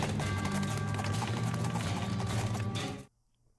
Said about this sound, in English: The cow army thundered east toward Dirtwater.